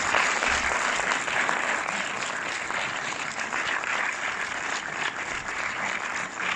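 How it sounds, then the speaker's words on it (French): Sustained applause from a cinema audience at the Orléans avant-première of the film Suprêmes, a dense, steady wash of many hands clapping close and loud throughout, with no voices rising above it. "vous pouvez encore les applaudir très très fort"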